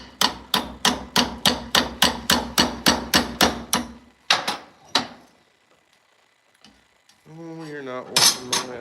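Hammer blows on metal stock fresh from a forge, about fifteen sharp, evenly spaced ringing strikes close by, then a few slower hits, a pause, and a brief voice at the end.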